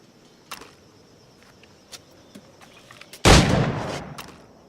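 A single loud, sharp firearm shot from Assassin's Creed 4 Black Flag bursts out close after a stretch of quiet ambience with faint ticks, then trails off in a brief reverberant decay.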